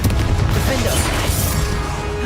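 A Confringo blasting spell bursts in Hogwarts Legacy combat as a loud, dense crash and rumble that fills the whole moment, with a voice faintly present underneath.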